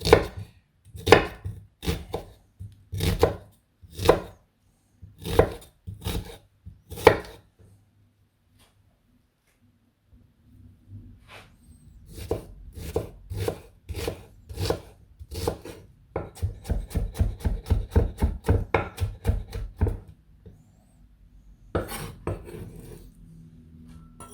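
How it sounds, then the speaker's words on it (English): A knife slices a halved white onion thinly on a board: crisp rhythmic chops, evenly spaced at first, then a pause before a faster, denser run of cuts, close and clear with no talking. "I'll cut it in half, and then I'll try to slice it quite thin."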